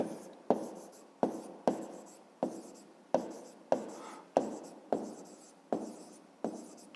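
A pen writes on paper in a steady run of about a dozen short scratchy strokes, each starting sharply and fading, close and quiet with no talk.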